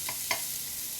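Butter hisses steadily in a hot frying pan for a close, continuous sizzle, with two quick soft clicks or scrapes near the start and no voices.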